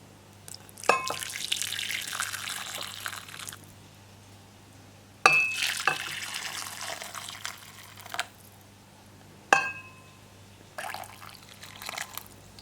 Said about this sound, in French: Donc, on va renverser le bouillon dessus.